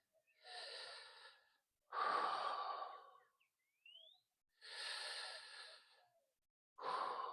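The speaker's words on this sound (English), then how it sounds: "holding for 3 deep breaths" Slow, deep breaths during a Pilates bridge hold, with long airy inhales and exhales separated by short pauses, close and soft with no talking.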